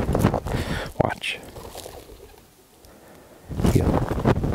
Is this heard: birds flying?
yes